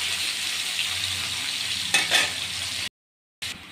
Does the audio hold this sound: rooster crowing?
no